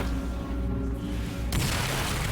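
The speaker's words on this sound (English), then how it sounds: "We just let the explosion hit us right in the face." In Dragon Age Inquisition, an Earthshaker explosion breaks a barrier wall with a sudden loud blast that cuts through the steady game ambience and leaves a rumbling wash.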